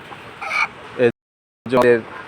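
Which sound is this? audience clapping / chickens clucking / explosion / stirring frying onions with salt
chickens clucking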